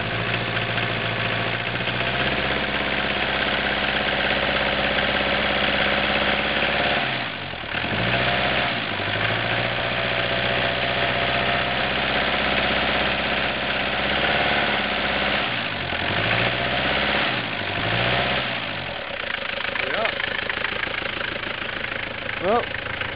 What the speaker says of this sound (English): there's a Daihatsu Scat cold start